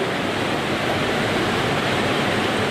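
Water flowing steadily through a man-made channel inside a cave, a loud, continuous broadband rush with no pauses and no voices.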